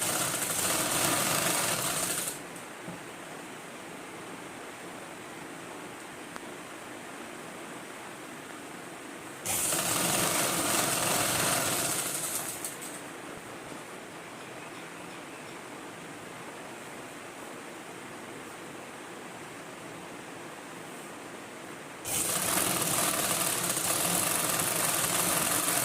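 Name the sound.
sewing machine stitching a school uniform collar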